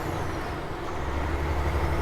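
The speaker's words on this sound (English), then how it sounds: "The jake brake is a little bit quieter." Truck engine brake on a heavy truck, a low rumbling, throbbing exhaust drone heard from inside the cab, steady and moderately loud with a deeper pulse building toward the end.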